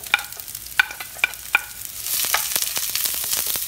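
Sliced onions hit a few tablespoons of hot oil for a meatless jalfrezi. Several sharp utensil clinks come first, then a loud, steady sizzle takes over with scattered crackles.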